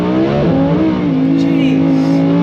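A Lamborghini switched into sport mode accelerates hard on an icy Scottish road, the engine note climbing and shifting loudly up close, with a voice briefly heard over the roar.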